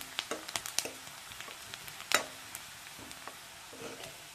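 Carrots and onions fry in a pan with a busy sizzle, punctuated by scattered sharp pops and stirring clicks, close up and fairly quiet, with no voices.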